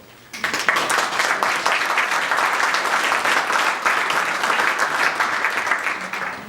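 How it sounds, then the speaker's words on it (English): A crowd at an annual meeting breaks into sustained applause, many hands clapping steadily and loudly for several seconds without pause. "So thank yourselves, and give yourselves a applause."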